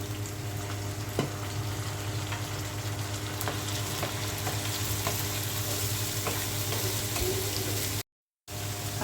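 Rice and lentils being stirred into spices frying in a pot while cooking plain khichuri, a steady close sizzle and fry with occasional scrapes of a spoon, running continuously without talk.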